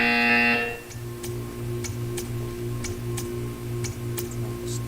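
A Portal 2 test chamber buzzer sounds first as a loud harsh tone, then gives way to a steady low electronic hum with faint periodic ticks.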